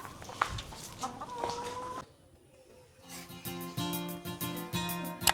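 Laying hens in a backyard coop cluck close by in irregular bursts, with a brief quieter gap before the clucking grows fuller and busier, several birds overlapping with a few sharp knocks.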